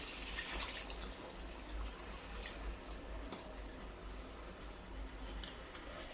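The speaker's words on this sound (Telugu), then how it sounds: "దీంట్లో ముక్కలు మునిగేంత వరకు వాటర్ వేసుకోండి." Water pours steadily into a cooking pot over pieces for a curry, a soft continuous splashing gurgle with a few small drips and clinks, fairly quiet and alone.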